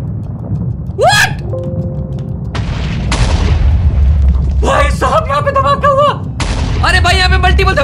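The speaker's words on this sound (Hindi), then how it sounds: "अरे भाई यहाँ पे मल्टीपल धमाके" Several explosions in a Minecraft game (Himlands series) sound as loud, deep booms, one after another, mixed with an excited voice talking over them.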